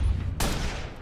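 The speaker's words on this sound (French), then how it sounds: "Et on lui tire à peu près 12 balles." A single loud, sharp sniper rifle shot in Watch Dogs cracks out after a low rumble and leaves a brief reverberant tail.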